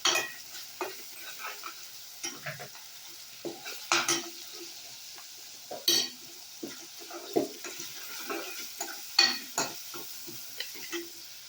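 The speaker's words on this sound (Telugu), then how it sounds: "ఇవి కొంచెం వేగిన తర్వాత అల్లం వెల్లిపాయ పేస్ట్, ములక్కాయ ముక్కలు వేస్తాం." Ginger garlic paste and drumstick pieces frying for a prawn curry, a soft sizzle broken by repeated spoon stirs and scrapes against the pan at an uneven pace, close and moderately loud, with no voices.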